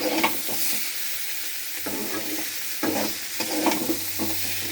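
Beans frying in a pan give a steady close sizzle, broken by several scraping stirs of the utensil, with no voices.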